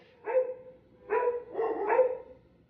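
A pug barks at an airport, with three or four short, close, moderately loud barks in an uneven rhythm against a quiet background.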